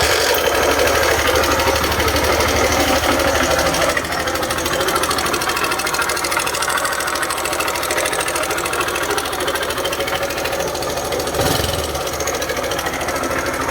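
Honda Wave 110i motorcycle engine with an abnormal noise, suspected worn bearings, running steadily at close range with a fast, even mechanical clatter that continues throughout and barely dips at one point.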